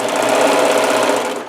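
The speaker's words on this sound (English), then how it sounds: "So I'm just going to go ahead and serge it." A serger overlocks the edge of a Hawaiian aloha shirt, its motor running at a loud, fast, steady buzzing rattle close up for the whole stretch, easing off only at the very end.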